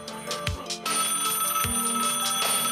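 A telephone bell rings as a sound effect inside an auto-generated mix of smooth coding music, with repeated bright ringing bursts layered over steady musical tones.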